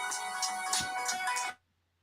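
A mobile phone ringtone plays loud and steady as a repeating melodic tone, then stops abruptly partway through.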